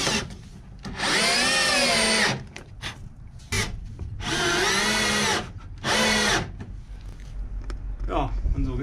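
Cordless screwdrivers drive screws into the floor of a Fiat Ducato L5 H3 camper van conversion, several whining bursts of a second or so each, with rising and falling motor pitch, separated by quieter handling sounds and some speech.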